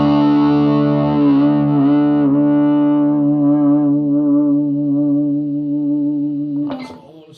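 An electric guitar played through a Marshall DSL1CR amplifier at maximum gain, one heavily distorted sustained chord ringing for several seconds with a slight wobble, then choked off with a brief scrape of strings.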